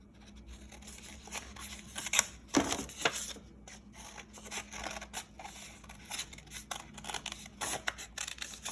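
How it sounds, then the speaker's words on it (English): Scissors snip and rustle through paper while a pumpkin shape is cut out for a jack-o-lantern craft, with soft, irregular cuts and handling sounds nearby. "Okay, now let me cut this pumpkin out."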